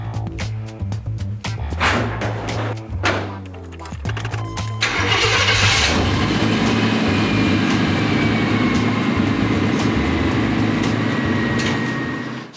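A car engine cranks and catches after a few sharp clicks and knocks, then settles into a continuous, even driving rumble with road noise that carries on to the end.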